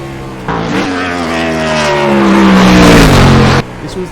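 A NASCAR Cup Series race car engine in iRacing screams at around 10,000 RPM, loud and close, with a sustained tonal roar that sweeps down in pitch and then cuts off sharply near the end.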